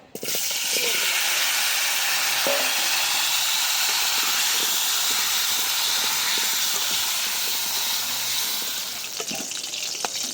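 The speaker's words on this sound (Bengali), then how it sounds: "আলু ভাজা হয়ে গেছে" Salted potatoes frying in hot soybean oil in a kadai, a loud continuous hiss and sizzle that holds steady and alone from start to finish.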